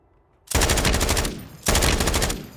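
Two loud, rapid bursts of automatic gunfire ring out in the Call of Duty Warzone video game, each rattling for about a second with a short pause between them.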